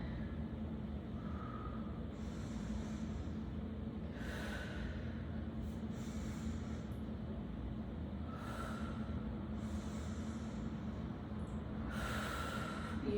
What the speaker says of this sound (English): pull it in, breathe in, breathe out